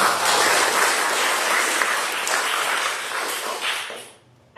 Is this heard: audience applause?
yes